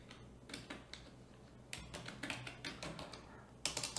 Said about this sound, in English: and then we will type something.